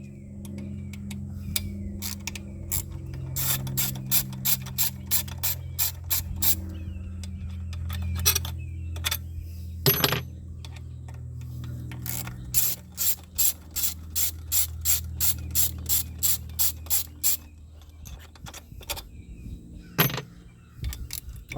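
A hand ratchet clicks repeatedly as it works the 10mm bolts holding and linking the carburetors on a 50 hp Yamaha outboard, in several bursts of quick, close, crisp clicks separated by short pauses.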